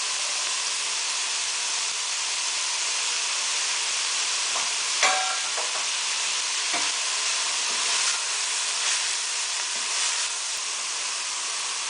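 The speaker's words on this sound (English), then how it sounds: "Next goes in, which I've chopped up 2 leaves of Savoy cabbage" Chopped Savoy cabbage fries in a minestrone soup pot with steady, bright sizzling hiss and a few faint clinks and stirs, close and continuous without talk.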